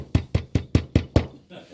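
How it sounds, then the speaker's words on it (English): Six sharp, evenly spaced knocks strike a door, loud and close, in a quick regular rhythm before stopping. "we're going to knock on the door"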